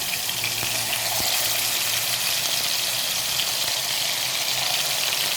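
Marinated chicken pieces fry steadily in a pan over a low flame, a continuous close sizzle and crackle with no talking.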